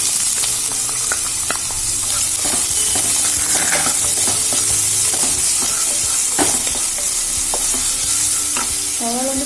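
Onions frying for a wheat uppumavu, with a steady sizzle and frequent stirring scrapes and clinks throughout, loud and close with no talking.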